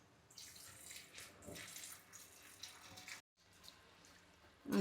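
Water poured from a vessel into a cooking pot of simmering onions, chickpeas and potatoes, a steady splashing trickle lasting several seconds with a brief pause, then a louder clank near the end.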